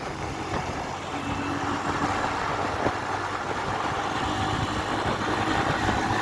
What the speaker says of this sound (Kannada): ಇದು ಸಿಟಿ 100 ಬೈಕ್ ಫ್ರೆಂಡ್ಸ್. ಹೆಂಗೆ ಓಡ್ದೈತಿ ನೋಡ್ರಿ.